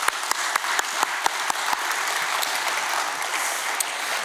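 Audience applause for the speakers of a museum panel session at a European remembrance conference, steady and fairly loud, with a few sharper early claps before settling into a dense, even wash of clapping that holds throughout.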